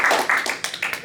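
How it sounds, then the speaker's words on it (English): An audience at a center meeting claps briefly after a speaker finishes, a short, thin patter of a few hands with uneven individual claps that fades quickly. "All right, we'll clap."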